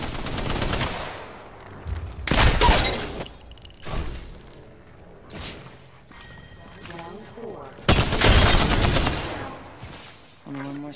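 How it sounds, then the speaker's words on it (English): Enemy gunfire in the battle royale game Apex Legends, bursts of loud automatic shots arriving in a few separate volleys with short quieter gaps between, while a voice talks over the action. "The enemies are shooting at me."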